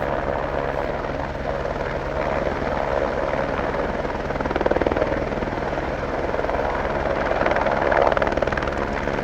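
A rescue helicopter lands in the Sierra backcountry, its rotor thudding loud and constant throughout, the deep throbbing drone swelling slightly in places with no pauses.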